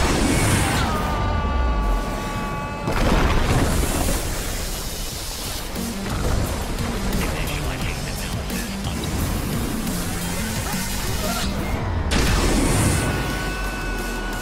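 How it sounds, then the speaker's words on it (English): Explosive chain reaction in the Xbox One game ScreamRide: broad booms and crumbling crashes repeat under a steady bed of game music, with sharper bursts near the start and end. "Explosive chain reaction underway."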